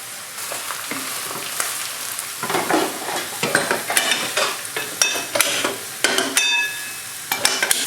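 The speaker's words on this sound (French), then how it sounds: "va faire revenir un peu les oignons et les champignons" Onions and mushrooms fry with potatoes in a pan, a loud crackling sizzle broken by repeated scraping and stirring strokes and sharp clinks of a utensil against the pan.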